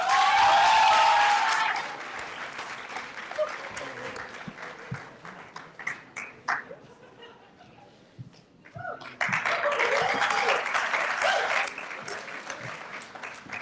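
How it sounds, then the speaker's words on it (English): Graduation ceremony applause for a student called to the stage: a loud burst of clapping at the start fades into scattered claps and quieter moments, then a second strong wave of applause swells and holds near the end. "A big applause for Amar, please."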